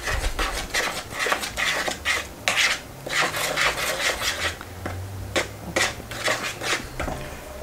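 Flour and baking soda stirred together in a bowl, with salt already added: close, loud, rhythmic scraping and rubbing strokes of a utensil against the bowl, repeating steadily without speech.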